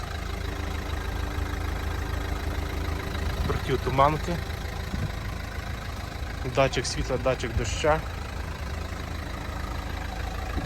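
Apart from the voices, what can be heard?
car diesel engine idling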